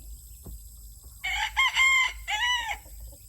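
A large hen in a chicken coop nest box gives a few close, loud clucking calls, a longer squawking burst then a shorter one, after a quiet start with a faint tap.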